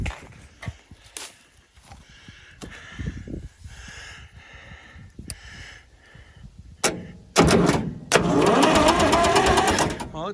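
A Massey Ferguson 200 crawler loader with a 3-cylinder Perkins engine cranking on its starter, first scattered clanks and rustling, then a loud, steady rhythmic churning of the engine turning over near the end.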